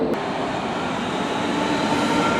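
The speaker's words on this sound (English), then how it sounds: "this is one impressive station, Berlin Hauptbahnhof" Trains at Berlin Hauptbahnhof railway station, a steady, loud rumble of rail traffic and echoing station hum with no pauses and no voices.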